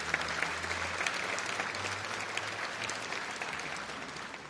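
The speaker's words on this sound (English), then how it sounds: "So big round of applause to all of our sponsors" Audience at a visual effects summit keynote applauds its sponsors with steady, dense clapping that stays even and moderately loud throughout, with no voices over it.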